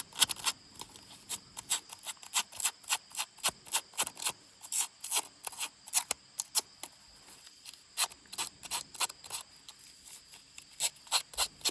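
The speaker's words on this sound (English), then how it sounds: "And you can use any piece of sandpaper." A sheet of sandpaper is rubbed along the edge of a paper craft pocket, making a steady run of about twenty quick, dry scraping strokes, close and fairly quiet, with no talking.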